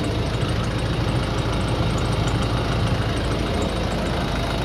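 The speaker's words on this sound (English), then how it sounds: "That metallic sort of dinging noise, I'm going to have to investigate a little bit further with that one." A running car engine idles steadily and close, with a faint, repeated metallic dinging ticking over the low rumble.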